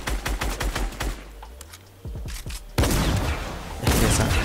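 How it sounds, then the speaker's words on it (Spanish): Shotgun blasts and rapid gunfire in Fortnite Season 3 during a fight, sharp repeated shots, then a dense burst of loud firing with no talk. "Es que esa escopeta me encanta."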